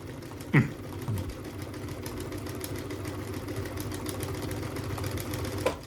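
A Bernina 930 Record sewing machine runs, stitching in reverse, with a steady mechanical motor whir and rapid needle clatter that carries on throughout, plus a couple of brief thumps and a short vocal sound near the start.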